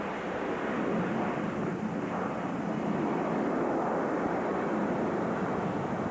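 A Harrier jump jet flies after a cloudburst, its engine a loud, sustained roar that holds steady without voices.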